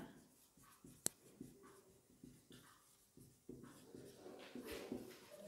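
Marker writing on a board during a biology lesson, a series of short scratchy strokes at an irregular pace, quiet and close, with one sharp tap partway through.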